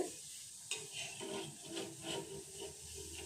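Gulab jamun frying in hot oil give a soft, continuous sizzle and bubbling hiss, fairly quiet and close, with a brief clink near the start and no talking.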